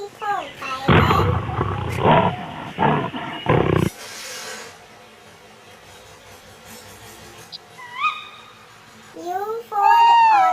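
A tiger gives a deep, loud roar lasting a few seconds, followed by quieter rumbling, with a voice briefly speaking afterward.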